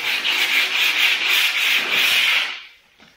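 Hand sanding with 200 grit sandpaper on a wet surface, a loud, close, continuous gritty rubbing of quick back-and-forth swipes that stops abruptly near the end.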